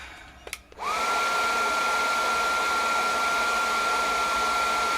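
After a couple of clicks, a Makita 18V cordless heat gun spins up with a short rising tone and then holds a steady hairdryer-like whoosh of air with a faint whine, continuous and close.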